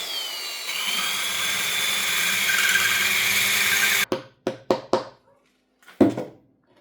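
A tiny drill bit bores a hole in a rock slab for a bonsai planting: a steady, close power-drill whine runs for about four seconds, then stops, followed by several sharp knocks and taps.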